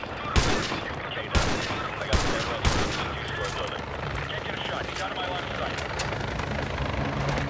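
Helicopter gun run in Modern Warfare 2, with several sharp heavy gunfire bursts in the first three seconds over a steady rotor and battle rumble, and voices talking over the top.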